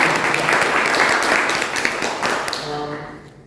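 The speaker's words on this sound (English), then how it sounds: "Please again, another round of applause for Timea." Audience applause after a speech at a public speaking event, a dense burst of clapping from a crowd that fades out toward the end.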